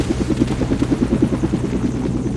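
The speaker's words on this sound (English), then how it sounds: "Helicopter going back to Bang Base." A helicopter flying in a video game, a steady, rapid rotor chop that thumps evenly and loudly throughout with a droning engine underneath, heard alone without talk.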